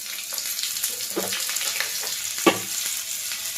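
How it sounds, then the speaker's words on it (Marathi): Mustard seeds, asafoetida and green chillies sizzle and crackle in hot oil for an appe tempering, a continuous close frying hiss dotted with sharp popping splutters and one louder spit. "हे बघा मोहरी चांगली तडतडली ना का हिंग टाकायचं हिंग तड तडला तर गॅस बंद करायची मिरची टाकायची त्याच्यात"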